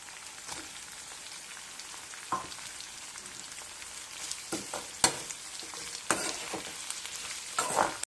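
Onions, green chillies and tomato pieces frying in a pan, a quiet, steady sizzle with scattered pops and occasional sharp clinks of a stirring spoon, growing busier toward the end.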